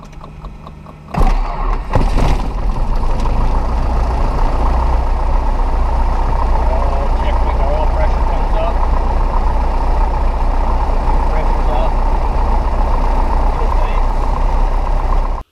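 Small propeller airplane engine starting after a sharp cough and then idling steadily, loud and close with a continuous low rumble and whirring propeller over about fifteen seconds.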